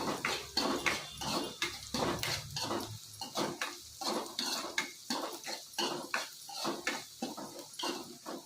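A spoon scrapes and clinks rhythmically against a pan as sprouted fenugreek seeds fry for a curry, repeated metallic strokes about twice a second, close and moderately loud.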